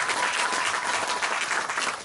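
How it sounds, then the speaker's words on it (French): Church congregation applauding during a French-language sermon, a dense steady wash of clapping from many hands filling the whole moment without letup. "Donnons une acclamation."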